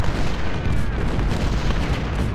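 Artillery cannon fire in the Civil War strategy game Ultimate General: Civil War, a dense continuous rumble of booms and blasts without distinct pauses, loud and filling the whole stretch.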